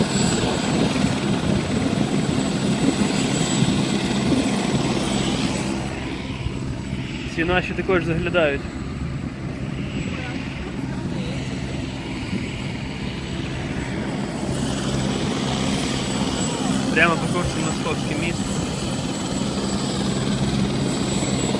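A helicopter passes near a kayaking party on the river around Trukhanov Island in Kyiv, its steady rotor and engine drone heavy and continuous under people talking, with faint whistles and wind noise on top.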